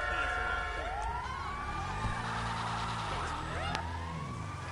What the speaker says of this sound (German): hat jemand Krankenwagen gerufen?